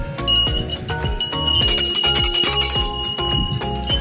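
A bicycle bell rings rapidly over and over, bright metallic dings in quick succession, close and loud with no voices.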